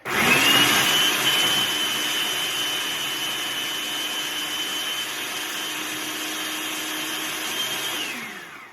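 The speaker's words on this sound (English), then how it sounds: "You put it in a food processor." A food processor on high whirs steadily for about eight seconds, chopping a sausage stuffing mix, a loud close motor whine that winds down at the end with no talk.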